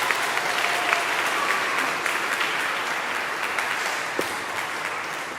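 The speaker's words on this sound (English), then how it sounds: "One more round of applause, please." Applause from a school audience at an 8th grade recognition ceremony after an award is presented, a steady wash of many hands clapping throughout, fairly loud and continuous with no speech over it.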